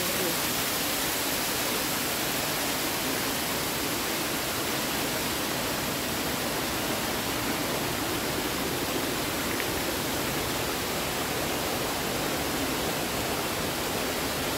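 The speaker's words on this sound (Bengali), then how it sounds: "এরকম রাস্তার ওয়াটারফল, জল পড়ছে প্রচন্ড।" A constant, roaring rush of a roadside waterfall in rainy North Sikkim fills the whole stretch, loud and unbroken like a nearby cascade pouring heavily.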